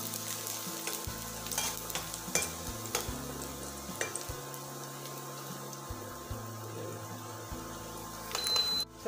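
Garlic fries in hot oil with a close, bright sizzle, joined by scraping and stirring clatter and a few hard knocks against the pan.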